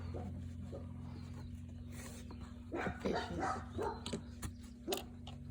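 Dogs playing around indoors give faint, scattered yips and short barks with an occasional whimper, quiet and somewhat distant.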